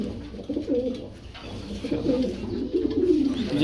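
Racing pigeons, birds flown in 500 km races and banded with club rings, coo steadily and close up in soft overlapping throaty rolls, with no talk over them.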